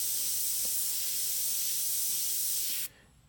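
An airbrush sprays paint in one continuous, close, bright hiss lasting almost three seconds, then cuts off abruptly into near silence.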